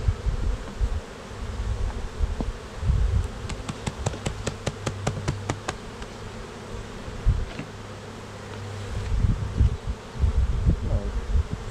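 Honey bees fanning vigorously at a nucleus hive, a steady close buzz with faint tapping and rustling, alone without talk.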